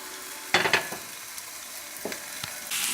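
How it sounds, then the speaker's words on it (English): Chicken balls sizzle and crackle in a frying pan over a lowered flame, with a few louder bursts of spitting over a steady quiet hiss. "you can hear that sizzling"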